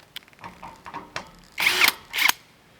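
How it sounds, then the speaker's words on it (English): Power drill driving metal roofing screws into a workshop roof, a few short ticks and clicks followed by two brief loud whirring bursts, close by. "I'm going to use the same metal roofing screws as before to get this put down here"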